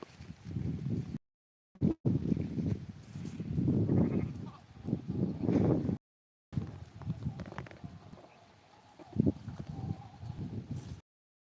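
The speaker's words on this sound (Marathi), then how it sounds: "कैलास बघा हे बघा या अशा शेळ्या आहेत माझ्याकडं" Goats kept by a shepherd bleat repeatedly in bursts, close and moderately loud, with a few brief dropouts between the calls.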